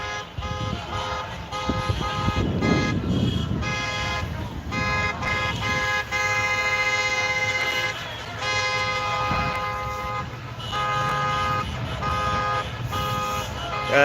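Repeated car horns honking at a street protest in Kansas City, Missouri, a mix of near and distant toots layered over steady traffic noise and a sustained alarm-like tone.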